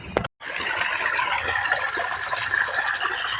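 Water rushing steadily into a farm field, a continuous broadband splashing flow after a brief pause at the start, close and unbroken.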